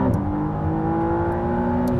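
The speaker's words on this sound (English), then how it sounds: "that electric motor fills in the torque so nicely to the point that there's like 0 lag" A 2024 McLaren Artura hybrid supercar accelerating with electric motor assist, a steady rising engine drone with a smooth whine, heard close from inside the car.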